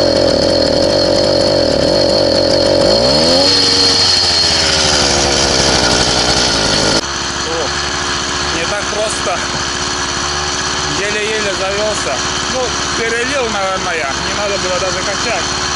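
Small engine of an all-terrain bike being run in, buzzing loudly and continuously with a high-pitched rasp, its pitch sliding and shifting as the throttle changes partway through.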